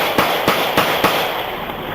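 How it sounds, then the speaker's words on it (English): A deputy's weapon fires four sharp, evenly spaced shots in quick succession, about a third of a second apart, each a loud crack over a steady hiss of background noise, with no talking. "the deputy fired his weapon,"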